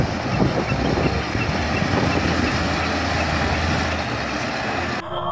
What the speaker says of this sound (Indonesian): kita menemukan truk dump truck membawa pasir atau tanah